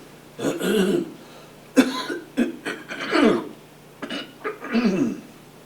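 A person coughs repeatedly in short harsh bursts and clears their throat, close to the microphone, with brief pauses between fits.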